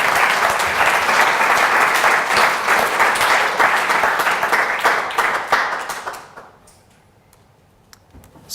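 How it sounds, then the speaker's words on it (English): An audience at a government data talk gives a round of applause, a steady burst of clapping from a medium-sized crowd that dies away after about six seconds into near quiet. "I think that deserves a round of applause."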